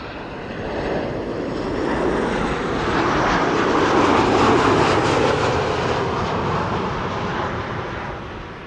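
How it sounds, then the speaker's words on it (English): A KLM Boeing 737-800 from Copenhagen arrives at Amsterdam Schiphol. Its broad jet roar grows gradually, peaks around the middle and then tapers off, loud and continuous with no talk. "This is KLM flight 1268 arriving from Copenhagen, a 737-800"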